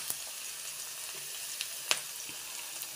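Food frying in a pan until reddish-brown, a soft, fairly quiet sizzle heard close up with a few sharp crackles and pops, no talking.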